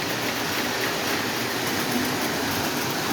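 A Lionel Amtrak diesel model train running on its track, a steady, continuous rolling rumble and hiss with no pauses, fairly close.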